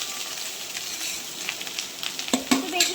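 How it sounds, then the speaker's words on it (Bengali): Rice with fried onions is stirred and tossed in a hot pan, a soft steady sizzle punctuated by scraping and a few sharp spatula clanks against the metal near the end. "এটাকে ভালো করে এবার মা নাড়িয়ে নিচ্ছে"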